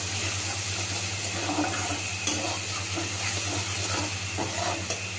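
Onion and garlic paste with a little sugar is frying in a wok, making a continuous even sizzle with soft stirring. A steady low hum sits underneath.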